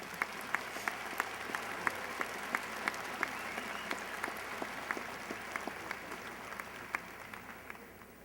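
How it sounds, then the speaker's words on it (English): The audience at a fall 2007 university graduation ceremony at UNC Charlotte applauds doctoral graduates with steady, faint, distant clapping that fills a large hall, with individual sharper claps standing out now and then. "Please join me in a round of applause for all of our doctoral graduates."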